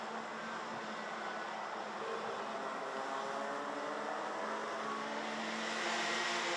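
Senior Rotax racing karts race around the Genk circuit, a steady high engine drone from several karts holding for the whole stretch and rising slightly in loudness toward the end, with no talk.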